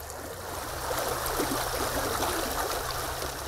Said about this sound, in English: As the river snakes its way to Museum Hill